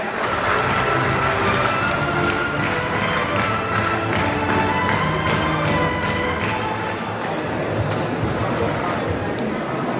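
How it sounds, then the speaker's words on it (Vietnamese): Applause from a church congregation welcoming seminarians after a martyrdom play, a dense steady wash of many hands clapping that fills the whole stretch at even loudness, with a voice audible underneath. "Xin cộng đoàn chào đón quý thầy một tràng pháo tay ạ."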